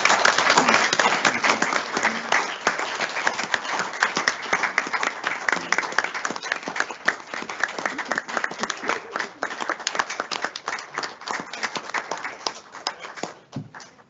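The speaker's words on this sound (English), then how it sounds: "big, big round of applause." Sustained applause at a school board meeting during an award presentation, a crowd clapping continuously and fairly loudly throughout with brisk, rapid hand claps, fading slightly near the close.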